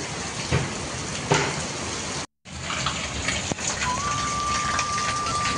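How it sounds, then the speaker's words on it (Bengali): Steady, heavy rain pours down on a rooftop garden in a dense continuous hiss, with a brief dropout midway and a faint tone appearing near the end. "ইতিমধ্যে যা বৃষ্টি নেমেছে সেটা একবার তোমাদেরকে দেখাই"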